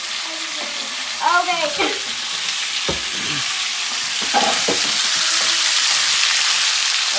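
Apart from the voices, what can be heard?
venison meat sizzling as it fries in a pan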